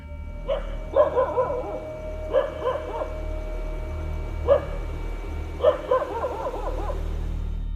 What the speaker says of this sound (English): the dog's bark get even more intense